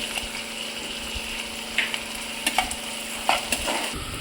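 Chopped onion frying in a pan at home while cooking paneer masala, a steady close sizzle broken by several clinks and scrapes of a spoon stirring.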